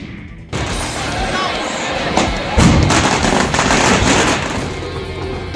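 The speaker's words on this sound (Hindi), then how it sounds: "ताबड़तोड़ गोलियां चल रही हैं।" Rapid bursts of gunfire crackle and thump loudly over a dense, noisy background, with heavy blasts mixed in.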